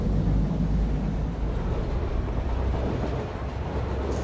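In the video game Satisfactory, a train pulls away from a station, a continuous low rumbling roll that stays fairly steady and slowly eases off.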